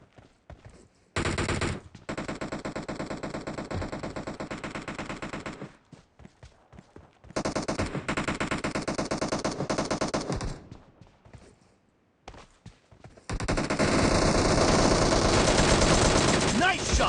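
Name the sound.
gunfire in the video game PUBG Mobile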